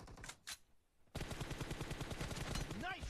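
Rapid automatic gunfire from a team deathmatch video game rattles in a fast, even burst after a short pause, with a brief voice at the end.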